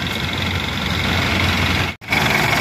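An owner-type jeep engine idles with a steady, close, low rumble that briefly cuts out for an instant before resuming.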